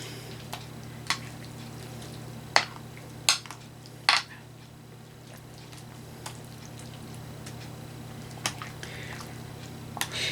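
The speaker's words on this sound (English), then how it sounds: "I'm just going to stir everything up a little bit." Spoon clinks and scrapes against a pan while stirring a one-pan chicken cheesy pasta bake, a Hamburger Helper hack, with a few sharp isolated taps over a steady low kitchen hum and no talking.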